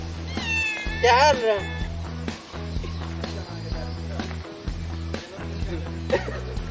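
A cat meows a few times in a Minang comedy sketch, brief rising and falling cries heard near the start over loud background music and voices, with other sounds continuing throughout.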